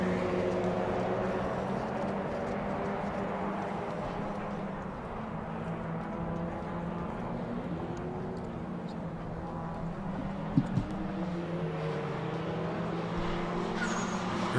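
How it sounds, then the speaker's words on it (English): Race car engines drone steadily at a distance at the Circuit of the Americas, with gear-shifting pitch sweeps rising and falling as cars run continuously, plus a brief clunk midway. "hopefully we'll get to hear some cars scream down the track"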